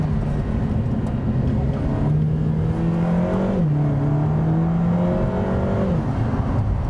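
A four-cylinder sports car engine droning and revving steadily from inside the cabin, the pitch rising and falling as it accelerates, with a whirring, buzzy tone.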